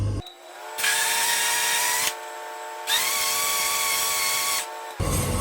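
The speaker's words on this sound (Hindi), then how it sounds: "पहले एग्जॉस्ट चलाते हैं।" Kitchen exhaust fan switching on, heard as a loud, steady motor whine. The whine cuts out and restarts several times and holds a constant hum while running.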